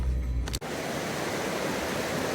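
Rushing river water in a Pacific Northwest forest roars as a steady, loud broadband wash, close by, with no voices over it.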